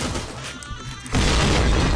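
A grenade blast in Counter-Strike: a sudden loud boom about halfway through, followed by a sustained roar of broadband noise and rumble that fills the rest of the moment.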